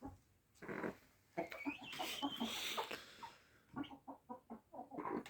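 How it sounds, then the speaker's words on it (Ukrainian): A farmyard hen clucks as she settles to roost for the night, giving a close series of soft, repeated clucks and a brief higher call, heard alone with no talking. "курочка перелетіла сюди. Хоче отут спати."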